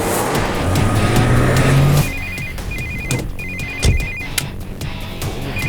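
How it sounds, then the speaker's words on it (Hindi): A phone ringtone rings close and loud, a repeating electronic melody over background noise, after a brief engine-like drone and with a thud partway through. "ये फोन उठाइए पापा"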